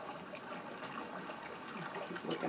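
Gentle running water trickles and laps in a Conan Exiles game scene, a soft, steady, faint wash with small splashy bursts and no voices.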